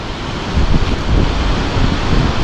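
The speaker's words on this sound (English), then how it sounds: "Pretty hard southwest wind we got going on today" Strong southwest wind at a Florida shore break, a loud steady roar of gusting air buffeting the microphone and mixing with crashing surf, continuous and close throughout.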